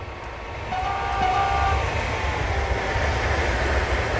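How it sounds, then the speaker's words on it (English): An ICE Metroliner train in the Railworks train simulator rushes past with a rising rumble and a brief horn note, loud and steady rail noise continuing after, with no talking. "So that's another Metroliner Train, I think."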